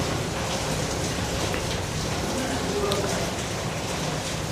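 Rain falls in a steady, unbroken hiss that fills the whole stretch, close and fairly loud with no pauses or changes in intensity.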